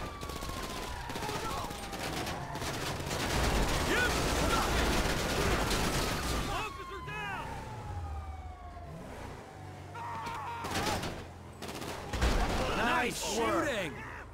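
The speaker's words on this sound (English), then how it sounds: "Shooting!" Gunfire rattles through a GTA Online riot mode session in bursts among traffic noise and wailing police sirens, while a voice talks over the chaos.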